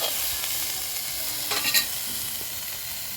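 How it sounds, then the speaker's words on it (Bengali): Continuous hissing sizzle from a hot wok of cauliflower and tomato, with a few scraping stirs and light clatter partway through. "কপি আর টমেটোটা বন্ধুরা ভালো করে একটু নেড়ে চেড়ে নেওয়া হবে"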